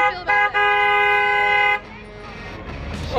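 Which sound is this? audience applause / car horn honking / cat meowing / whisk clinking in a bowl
car horn honking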